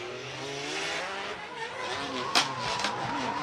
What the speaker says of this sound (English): that mean machine under the hood, a VR38